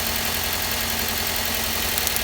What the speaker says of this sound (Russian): Двигатель троит.